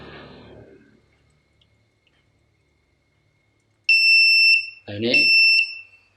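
A washing machine buzzer sounds after the spin cycle with two loud, piercing electronic beeps in quick succession, close by, following a short spoken remark and a stretch of near silence.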